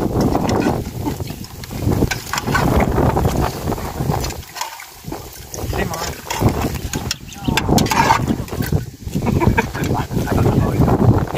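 Strong gusting wind and rain from a sudden storm at a waterside hut, roaring and buffeting the microphone in uneven surges, with people talking loudly over it.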